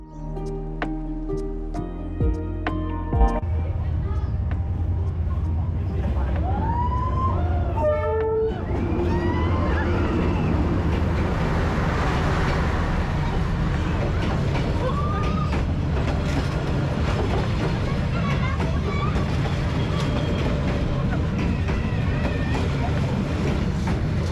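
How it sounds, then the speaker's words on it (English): A train rumbles past up close through a narrow street in Vietnam with a loud, continuous roar and screeching wheel squeals, a horn toot early on, amid busy crowd noise. "see the train go by"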